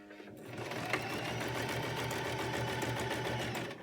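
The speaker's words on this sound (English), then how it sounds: "Begin sewing about halfway, 3/4, or 2/3 down the 9-inch, the long side of the fabric." A sewing machine stitches fabric pieces of a cloth face mask together, running steadily and continuously at close range with no talking.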